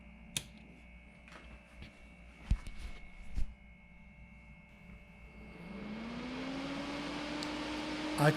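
A homemade bench fume extractor fan powered above 12 volts, a few handling knocks and then a motor whir that spins up and settles into a steady, fairly quiet hum.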